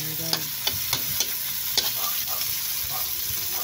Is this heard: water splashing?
no